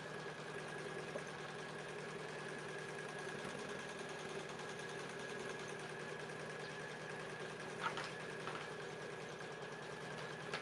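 Embroidery machine stitching an in-the-hoop Easter potholder, a steady, even mechanical whir with fast repetitive needle chatter that runs continuously, faint and close, with a couple of small clicks near the end and no voices.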